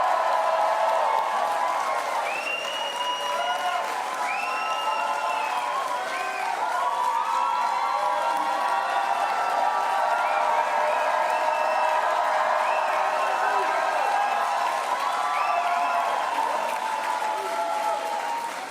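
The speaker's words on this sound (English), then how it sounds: "I'm just going to keep calling out names, and you guys can just cheer" A large crowd at a North Carolina campaign rally claps and cheers continuously, loud sustained applause with whoops and shouts rising over it for the whole stretch.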